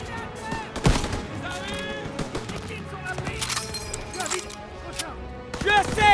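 Machine gun fire in Call of Duty WWII, rapid crackling shots mixed with explosions and battle noise, with voices shouting over the din.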